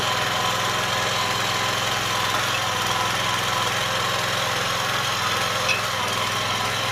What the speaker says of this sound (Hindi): ये मल्टीपर्पज मशीन है, एक छोटा ट्रैक्टर है।